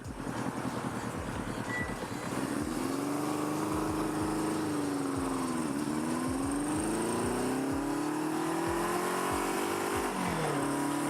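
A Kawasaki KZ650 motorcycle engine running while riding, a steady close-up drone with pitch rising and falling through gear changes and a sharp drop near the end, with constant wind rush and no talking.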